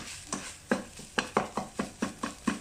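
A spatula scraping and stirring a canned-fish chili paste mixture in a pan over medium heat, quick rhythmic strokes about four per second with a faint sizzle underneath.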